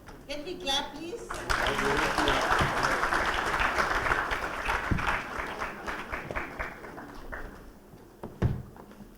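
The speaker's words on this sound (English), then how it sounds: "Can we clap, please?" An audience at a school leadership session applauds, a steady wash of clapping from many hands that swells, holds and fades over several seconds, with a speaker's voice before and after.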